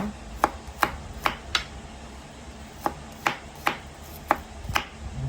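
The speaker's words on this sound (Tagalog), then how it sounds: "Para siya lumasang maigi, ay hiwain natin ng manipis" Knife cutting thinly on a board while slicing for humba with chicken feet: eight sharp, evenly spaced chops, two bursts of four with a pause between, close and fairly quiet, no talking.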